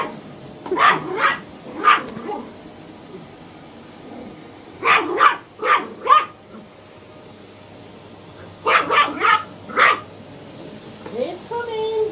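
A puppy barks at a hoover vacuum cleaner in a home, letting out three clusters of sharp, high yips and barks separated by pauses, fairly close, with a person talking between them.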